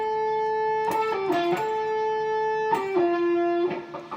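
Electric guitar plays a short phrase from a song with no bends, in two clear repeated runs of sustained, slightly overdriven notes that step down in pitch. The tone is close and clean.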